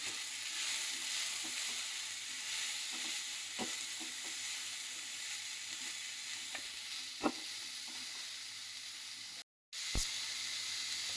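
Sprouted mung beans fry with cumin, turmeric and salt in a pan, giving a steady soft sizzle punctuated by scattered scraping clicks as they are stirred, with one brief dropout near the end.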